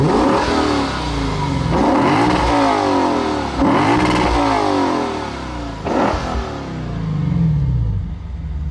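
Sports car engine with a stacked exhaust revving hard outdoors, several loud rising and falling bursts of throttle in quick succession, close and dominant with no talking.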